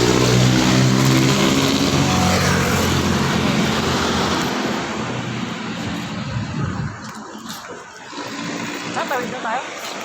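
Busy street traffic rumbles and roars nearby as vehicles pass and accelerate, loud at first and then easing, with people talking over the noise.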